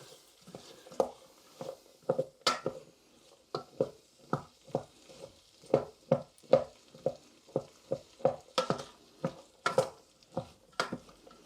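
Jambalaya sizzling in a Trangia camping cook kit pan as a spoon stirs and breaks it up, giving a steady run of sharp scraping knocks against the metal over a soft frying hiss.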